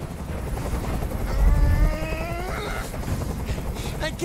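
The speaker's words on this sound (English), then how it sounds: "Tell that helicopter to get out of here." Helicopter in the video game Detroit: Become Human, a low rotor rumble with a throbbing drone that swells and lingers through the scene, mixed with game sounds and a voice talking.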